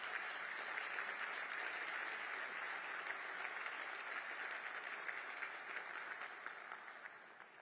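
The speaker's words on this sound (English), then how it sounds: "So please applaud Abby whether you want to or not." An audience at a Washington, D.C. gala applauds steadily for several seconds, a dense wash of clapping that gradually tapers off toward the end.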